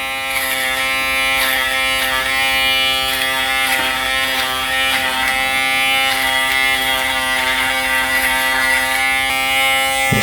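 Steady close buzzing of an Aberlite Touch 2 electric head shaver working around the ears, a constant motor drone with slight scraping texture that runs without break and with no talking.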